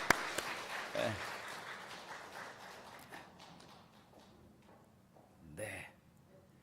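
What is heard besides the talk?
applause welcoming people to the front in a church service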